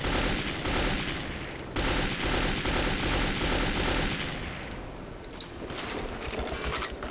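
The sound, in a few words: gunfire from an enemy in the video game Metro 2033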